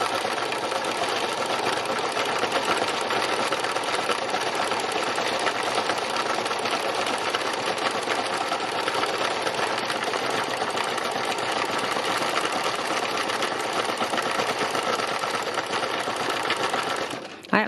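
A sewing machine runs continuously for free machine embroidery, stitching onto fabric flowers, a steady loud mechanical whirr with no pauses that cuts off abruptly at the very end.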